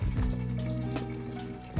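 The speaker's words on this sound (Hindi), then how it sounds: "अब देखें पानी निकल रहा है।" Water from a planted aquarium runs steadily through a siphon hose into a bucket during a weekly water change, a continuous close trickling and filling sound with no talking.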